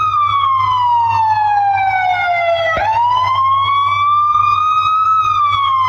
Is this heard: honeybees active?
no